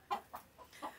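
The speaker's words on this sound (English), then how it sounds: "As you can see, he has a lot of chickens here." Chickens on a village farm in Spain give four short, separate clucks, fairly close and clear against a quiet background.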